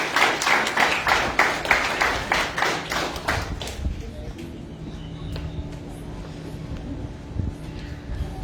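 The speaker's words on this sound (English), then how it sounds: "Let's give a round of applause to Gisele." Graduation ceremony audience claps in a loud, even rhythm for a few seconds before it fades to scattered taps and room noise.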